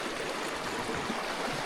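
A natural stream of flowing water rushes continuously with a steady, broad hiss and gentle gurgle, close and even, with no voices.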